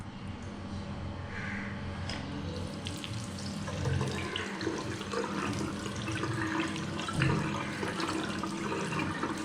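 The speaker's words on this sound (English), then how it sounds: "So letting water flow from here to the dirty side." Water runs from a tap through a K&N air filter being rinsed clean, flowing from the clean side to the dirty side as a steady, close splashing stream into a sink.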